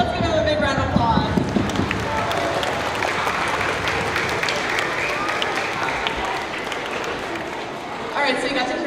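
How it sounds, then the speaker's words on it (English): Audience applause for a young saxophone player at a spring school band concert, a loud sustained wash of clapping that swells and continues across the whole stretch, with a few voices mixed in. "Let's give him a big round of applause."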